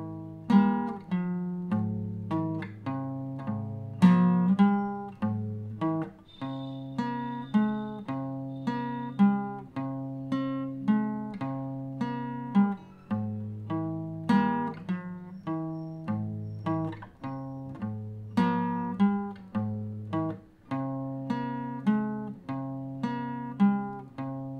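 Electric guitar playing a chord progression, clean picked and strummed chords ringing in a slow, steady repeating pattern, close and alone for about twenty-five seconds.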